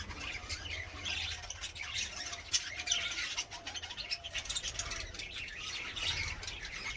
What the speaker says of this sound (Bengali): দেখো পাখিগুলো কি উৎপাত করছে, দেখো খড়ে এসে বসেছে